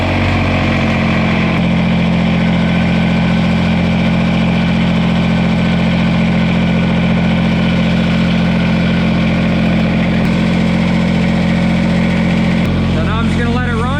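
A Kubota BX compact tractor's engine idles steadily at close range, a loud, even drone that holds unchanged throughout, with a brief clatter of handling near the end.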